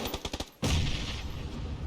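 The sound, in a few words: grenade explosion in a video game match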